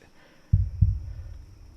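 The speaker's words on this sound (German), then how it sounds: "ich höre den Herzschlag" A heartbeat from the horror game Haunt Chaser thumps twice in a low, deep double beat, then fades into a soft rumbling hum, close and isolated with no speech.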